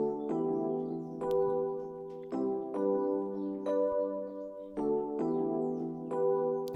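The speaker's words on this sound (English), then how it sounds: "So this is another part of the E piano." An electric piano part from an Afrobeat beat produced in FL Studio. Sustained chords are struck in a syncopated, off-beat pattern, with clean, even tones repeating and nothing else playing.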